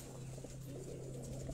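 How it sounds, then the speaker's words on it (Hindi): A pigeon cooing softly and low, a faint rolling coo over steady background hum. "ए वो कबूतर है"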